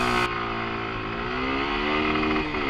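A Suzuki Gixxer SF motorcycle engine hums steadily at about 100 km/h, its pitch rising slightly as it pulls forward, with steady wind and road noise underneath.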